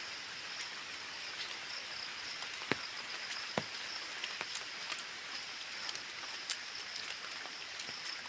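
Rain falling steadily in a forest village, a soft even hiss of drops with a few sharper drips standing out, faint and with no voices.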